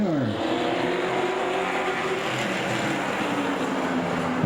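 Racing trucks of the Midwest Truck Tour roar together at the start of a heat, a dense, steady engine drone with rising and falling pitch sweeps as the pack passes, loud and continuous with no voices.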